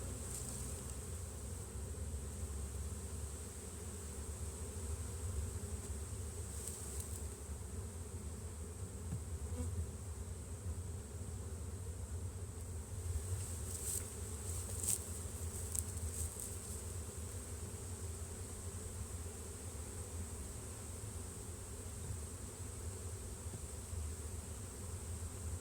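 A swarm of honey bees freshly shaken off a tree hums in a steady, dense drone, fairly faint and unbroken throughout, with a few individual bees buzzing closer now and then.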